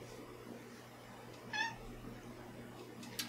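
Pet cat indoors near an ecosphere container, letting out one short, faint meow midway through a quiet room, with a light rustle near the end.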